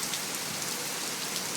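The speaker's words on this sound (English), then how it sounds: "Look at that. It's totally pouring." Heavy warm rain pours down in Florida, a dense, constant hiss of drops striking surfaces close by, with no voices.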